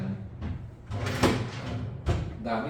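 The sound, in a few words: hotel room drawer opening or closing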